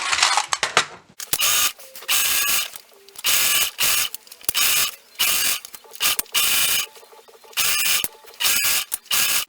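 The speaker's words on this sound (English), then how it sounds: "I'm just going to go ahead and serge as I normally would" A serger stitches elastic onto fabric in loud, close bursts of rapid mechanical whirring, starting and stopping repeatedly in roughly second-long runs separated by short pauses, with no talking.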